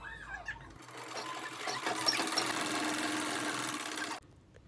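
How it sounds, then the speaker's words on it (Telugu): Close by, a sewing machine stitches a saree neckline in reverse, whirring in one continuous burst of rapid needle chatter for about three seconds before stopping abruptly, with quiet handling sounds before and after. "ఇప్పుడు నేను నెక్ స్టిచ్ చేస్తున్నాను రివర్స్ లో."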